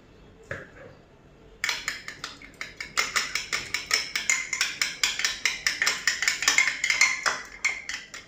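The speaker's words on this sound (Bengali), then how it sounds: "ডিমটাতে সামান্য লবণ দিয়ে ফেটে নিচ্ছি" An egg with a pinch of salt is beaten in a bowl, making a fast, even run of sharp clicking taps as the utensil strikes the bowl, starting after a brief quiet moment and continuing steadily to the end.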